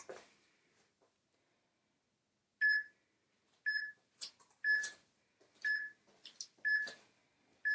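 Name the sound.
workout timer beep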